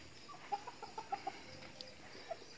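Village chickens cluck faintly in short, scattered notes against a steady outdoor hiss, heard from a little distance in a residential area with no voices.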